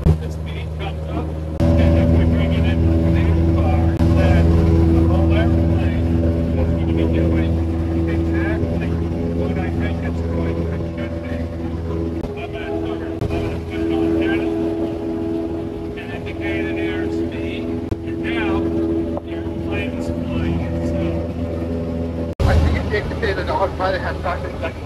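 A Cessna Skyhawk's piston engine runs at high power inside the cockpit, a loud steady harmonic drone with a brief dip near the end, while people talk over it.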